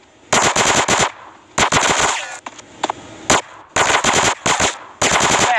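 Machine gun fire in Grand Theft Auto San Andreas during a casino heist, loud rapid bursts separated by short pauses, with a few single shots in the gaps and no talk.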